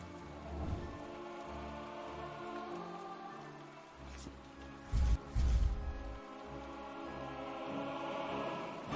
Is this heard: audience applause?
no